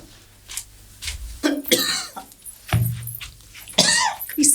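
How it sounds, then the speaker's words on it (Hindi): Several coughs from a person in a domestic comedy scene, loud and close, in short separate bursts spread through the moment with a brief voice between them. "खांसते रहते जब देखो तब।"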